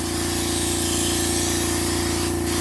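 A mini air compressor drives a spray gun painting directly, giving a steady close hiss over a continuous low motor hum, with a brief stronger burst of spray near the end.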